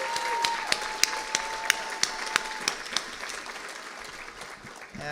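Audience applause at a university inauguration event for an Asian American and Asian Studies major, scattered claps with a few sharp, distinct hand strikes standing out over a softer crowd wash, tapering off toward the end.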